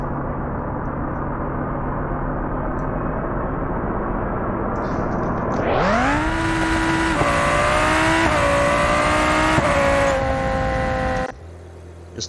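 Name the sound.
Civetta Scintilla car accelerating in BeamNG.drive video game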